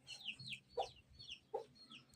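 Chickens cluck in short, scattered calls, with a couple of louder squawks standing out over a soft, steady background hum.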